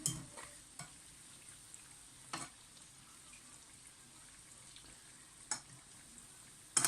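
Donuts frying in butter in a pan, a steady low sizzle running throughout with a few sharp clicks and pops, no talking.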